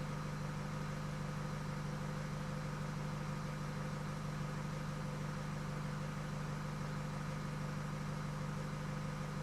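A Nissan X-Trail diesel engine, remapped with EGR and DPF deleted, idling with a steady low hum and even mechanical drone, constant and close with no revving.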